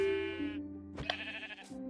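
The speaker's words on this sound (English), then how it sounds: "Sheep, dude, why are you running into the mine?" Sheep bleating in the video game Minecraft, two drawn-out wavering bleats close and clear, the second starting after a brief pause and ending with a short lower note.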